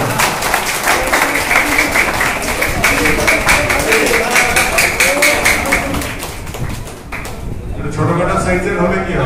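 An audience at the closing ceremony of an athletics coaching camp breaks into loud, dense applause that continues steadily, dips briefly, then swells again near the end.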